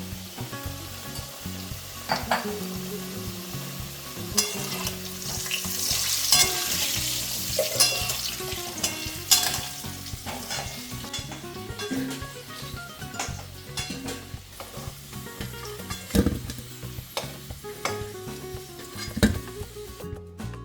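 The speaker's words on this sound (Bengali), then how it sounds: "এখন হলুদ দিয়ে আলুটাকে নেড়ে চেড়ে দিয়ে দেবো" Potatoes with turmeric stirred in hot frying oil for a Bengali chui jhal chicken dish, a steady close sizzle with scraping spatula strokes and occasional pan clinks, no voices.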